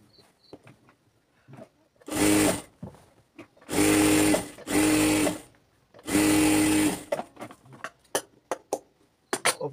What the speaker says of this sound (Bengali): হায়ার সাইডটা সেলাই করে দিবেন।